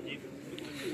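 Pigeons coo softly on a rooftop at Ustad Abdul Muhaimin's house in Alsuwaiq, a low continuous burbling under ambient noise with a brief faint chirp.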